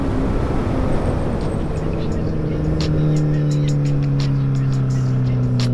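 1000cc motorcycle riding along Highway 1 on the Mendocino coast, a loud continuous engine drone with a rising pitch as it accelerates, wind noise over it throughout.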